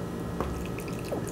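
Liquid jello trickles slowly over fruit in a mold, soft close drips and wet squishy splashes in a quiet kitchen, brief and faint without talk.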